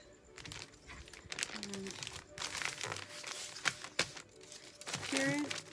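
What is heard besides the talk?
tape being removed and wrapped around a package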